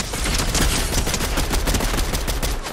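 Dense, continuous gunfire in the video game Fortnite, a loud rapid stream of overlapping shots rattling steadily without pause, like sustained automatic fire up close.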